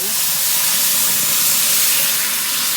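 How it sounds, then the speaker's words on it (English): Water hits a smoking hot pan set at the bottom of an oven and sizzles into a loud, continuous steamy hiss. "And you want to heat up the pan before you put the water in, because you want to hear that sizzle."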